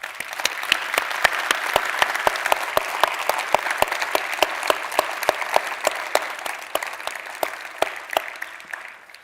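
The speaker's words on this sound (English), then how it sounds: "please will you join me in giving them a massive round of applause" A conference plenary audience at a cybersecurity event breaks into sustained applause, dense steady clapping from a large crowd filling the hall at even loudness before thinning slightly toward the end.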